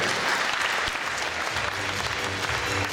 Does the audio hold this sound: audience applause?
yes